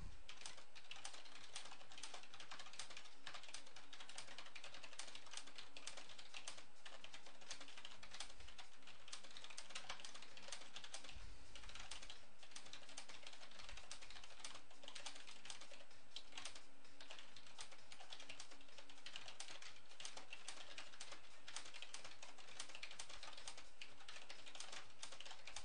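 Steady fast typing on a computer keyboard, a dense continuous patter of key clicks running throughout at close range, with no voices.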